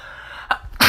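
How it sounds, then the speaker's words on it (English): One person sneezes nearby in two sharp, loud bursts, a short catch followed by the full explosive sneeze at the end. "gonna sneeze again."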